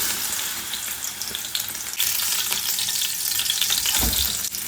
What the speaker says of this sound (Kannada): ಆಯಿಲ್ ಹಾಕಿದ ನಂತರ ಈ ಥರ ಪನ್ನೀರ್ದು ಹೋಲ್ ಬ್ಲಾಕ್ ನೆನ್ನೆ ಫ್ರೈ ಮಾಡಲಿಕ್ಕೆ ಹಾಕಿ